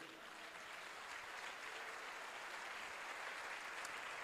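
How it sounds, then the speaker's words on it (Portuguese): A church congregation applauds during a sermon, a dense, steady wash of many hands clapping that fills the space evenly from start to end at moderate volume. "Você pode aplaudir Jesus por isso?"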